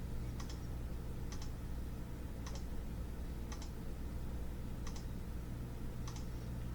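Sharp, evenly spaced computer mouse clicks, about six in all, tick faintly over a low steady background hum during photo editing.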